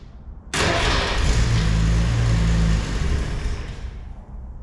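A 1965 Ford Falcon engine cranks and catches, then roars into a loud rough idle with a brief rev before easing back slightly, running close by with no talk.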